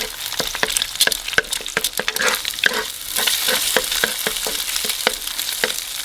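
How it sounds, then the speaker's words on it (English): Two eggs fry in about a tablespoon of oil in a pot, a bright continuous sizzle cut by sharp stirring and scraping taps, close and loud with no talking. "we're going to add in about a tablespoon of oil and your 2 eggs. Cook the eggs to your liking."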